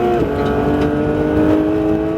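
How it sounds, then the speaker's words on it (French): A Porsche 911 GT3 accelerating on the Mireval race circuit, its engine a loud, close, steady roar heard from on board. "Allez, maintiens ton gaz délicatement. Et accélère."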